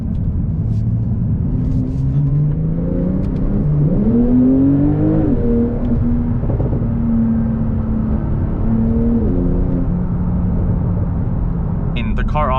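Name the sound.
Porsche 992 Turbo S driving through a tight corner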